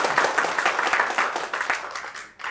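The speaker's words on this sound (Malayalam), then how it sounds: "ഒന്ന് കൈയടിക്കാമോ?" An audience at a movie audio launch bursts into applause, a crowded patter of hand claps in quick, fairly even rhythm that thins out toward the end with a last brief surge.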